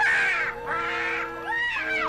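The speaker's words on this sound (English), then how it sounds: "when he grabbed the magic hen, it started squawking like it had its tail caught in an electric fan" A magic hen in a Yogi Bear cartoon version of Jack and the Beanstalk lets out three shrill, raspy squawks in quick succession, loud and close.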